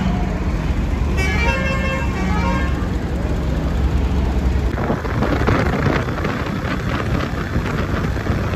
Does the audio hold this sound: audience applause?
no